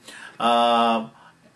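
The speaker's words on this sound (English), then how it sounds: "It's almost like a dead stroke where you're not really playing the chord, you're just playing a beat" A single acoustic guitar stroke, played as a dead stroke that beats the strings rather than sounding the chord, from a chord lesson. It rings briefly and clearly on its own, with faint quiet before and after.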